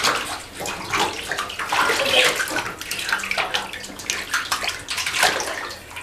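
Water splashing and sloshing in a baby's bathtub during a first bath, steady, close and fairly loud, with soft movement noises and no clear talking.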